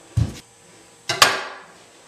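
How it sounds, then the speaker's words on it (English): A knife chops through an onion on a cutting board, giving two separate sharp knocks about a second apart, the second with a short ringing tail. "Alright, now I'm just going to chop up the onion"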